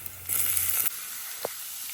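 Chopped onions sauté in hot oil in a pan for a chole masala, giving a soft, close sizzle that briefly swells into a louder hiss before settling back to a quiet simmer.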